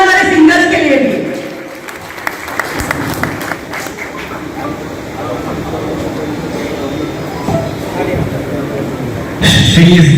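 An audience at an Onam celebration in Navi Mumbai applauds the singers, giving sustained clapping of moderate loudness that runs under a voice speaking over a PA and swells again near the end.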